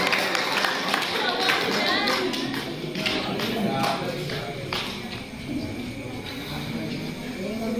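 An audience at a Quran recitation competition for students claps steadily for the winners, with brisk, fairly close hand claps, background crowd chatter and a little shuffling underneath.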